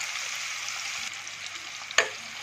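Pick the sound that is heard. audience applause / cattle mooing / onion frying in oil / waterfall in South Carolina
onion frying in oil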